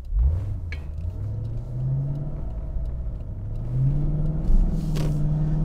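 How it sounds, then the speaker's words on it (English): A 2008 Lexus IS F engine with about 100,000 miles revs steadily with a rising, humming induction tone, close and fairly loud, climbing in pitch twice. "Nice little induction tone. I always like to hear that, of course."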